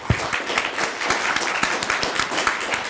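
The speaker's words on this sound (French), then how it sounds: "je crois qu'on peut applaudir notre directeur général" A business school audience claps steadily for a director general, a dense run of close, even handclaps with no voices over it.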